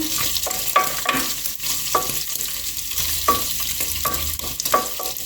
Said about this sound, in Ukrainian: Сало почало топитися. Так гарно перемішуємо.